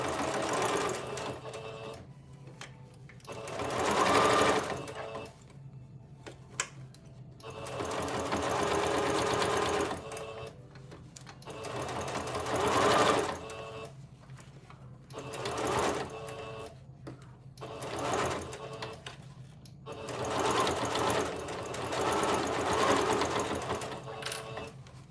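A sewing machine stitches baby clothes being turned into keepsakes, running in several loud bursts of steady rapid whirring separated by brief pauses, close by with no talk.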